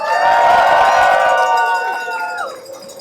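Rally crowd cheering and whooping at an outdoor gathering, a loud burst of shouts and yells that swells and then fades over about three seconds.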